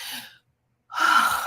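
A person breathes close to the microphone: a short airy breath, a brief silence, then a louder, longer deep breath in. No one speaks.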